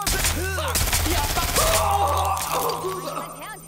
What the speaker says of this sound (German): Warum schießt ihr auf mich?